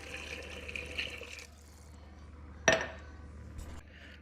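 Vegetable stock and peanut butter go into a pot of West African peanut stew, a steady liquid pour followed by a sharp metallic clink of a utensil and a few quieter knocks.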